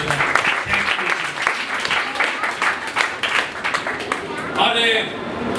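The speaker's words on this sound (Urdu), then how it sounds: "زوردار تالیاں بجائیں." Congregation at a church service applauding loudly together, a steady dense patter of many hands filling the room throughout, with a voice briefly audible near the end.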